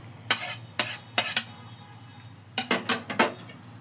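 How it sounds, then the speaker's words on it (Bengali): Crumbled fried egg pieces go into a cooking pan of soybean egg curry, with a utensil giving sharp metallic clinks and taps against the pan in two quick clusters, close and clear. "এইবার এর মধ্যে আমি এই যে ডিমগুলো যে ঝুড়ি ভাজা করে রেখেছিলাম এই ডিমটা দিয়ে দিচ্ছি।"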